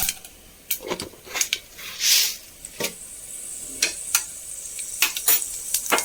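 Urad dal dropped into hot oil for a ragi vermicelli upma crackles and sizzles at close range, with sharp pops and spatters scattered across a steady frying hiss and a brief louder burst partway through.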